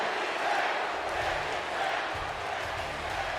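A wrestling arena crowd roars steadily for Braun Strowman, a dense, continuous wash of cheering and shouting that holds at an even level throughout without pause.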